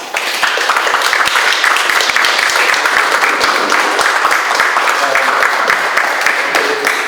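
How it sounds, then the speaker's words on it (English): An audience at a mayoral debate applauds steadily, a dense close wash of many hands clapping that holds for several seconds without letting up. "Let's give them a round of applause."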